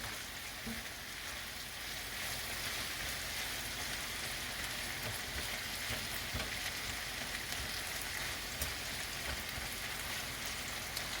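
Jamaican-style cabbage with chicken frying in a pan, a steady, even sizzle with soft crackles running throughout at moderate level, close by and with no talking.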